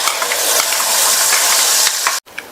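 Ground garlic chutney sautés in hot sesame oil with a loud, dense sizzle and stirring scrapes, then stops abruptly near the end before a faint clink.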